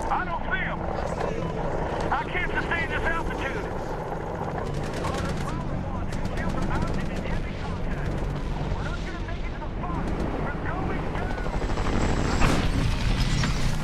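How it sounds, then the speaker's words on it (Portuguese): A helicopter goes down in Medal of Honor (2010), its rotor roar and mechanical clatter running throughout alongside bursts of gunfire and explosions, while a player talks over the game. "Vai cair o helicóptero."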